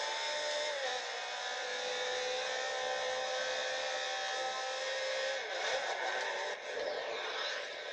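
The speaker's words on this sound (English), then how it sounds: "This car sounds amazing, just screams" High-revving car engine screaming in the racing game Forza Horizon 2, a loud sustained whine with shifting tones that runs continuously and rises toward the end.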